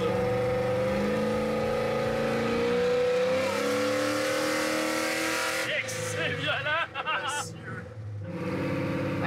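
A Chevrolet C10 race truck pulls out of an oval track turn, its engine loud and rising in pitch under steady acceleration for several seconds. The note then breaks up into gear changes and uneven revving, with a voice heard over it.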